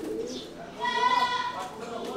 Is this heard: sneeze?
no